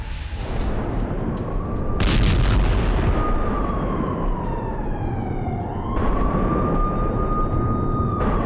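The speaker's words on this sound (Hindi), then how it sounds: "बाखमुत में यूक्रेनी फोर्स के ठिकानों पर भारी बमबारी देखी गई है।" Heavy artillery bombards Ukrainian positions in Bakhmut, with sharp, loud blasts cutting over a constant rumble and a long wailing tone that glides in pitch.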